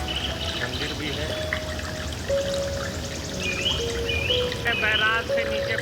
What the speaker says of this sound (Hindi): बैराज से नीचे पानी निकलने का नज़ारा